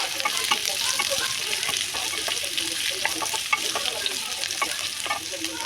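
Onions tossed into hot oil with garlic, ginger and pepper sizzle steadily in a pan, a dense continuous crackle broken by frequent scraping stirs, close and fairly loud.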